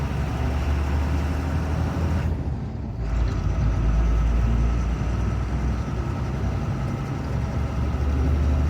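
An empty truck rolls along a bumpy old road, its engine a steady low drone under constant rumble and rattle, with a brief dip partway through before the noise returns at full strength.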